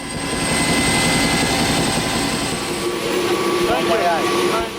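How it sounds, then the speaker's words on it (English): Helicopter rotor thumping steadily close by during a flight to an airport in Haiti, a loud continuous drone with engine whine, while a voice talks over it. "we avoid the clogged roads and helicopter to the airport"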